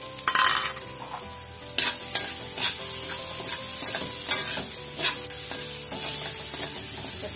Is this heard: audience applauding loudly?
no